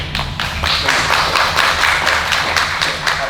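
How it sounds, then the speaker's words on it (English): Audience at a college signing ceremony clapping in a steady, dense round of applause, fairly close and continuous, with no talk over it. "Amy Dinsmore in the yellow there, who we should give a special round of applause"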